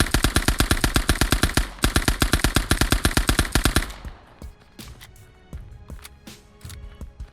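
A World War II German MP40 submachine gun firing in a video game, two long rapid automatic bursts close and loud, followed by scattered softer shots and clatter at a distance.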